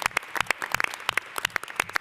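Dense, crisp clapping from an audience at a mayoral press announcement in New York City, a steady patter of many hands close and fairly loud with no speech over it.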